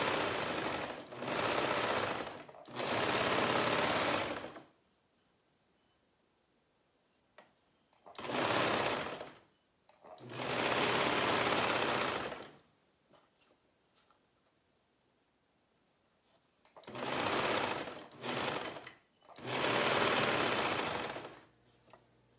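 Sewing machine stitching the side and shoulder seams of a shirt bodice, steady whirring runs of several seconds each separated by quiet pauses, close and clear with no talking.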